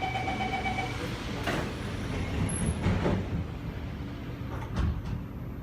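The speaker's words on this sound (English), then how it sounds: "Doors are closing." Doors on an SMRT C751B train in Singapore slide shut amid the rumble of the carriage at Kranji station, with a chime near the start and a couple of dull thuds as the doors close.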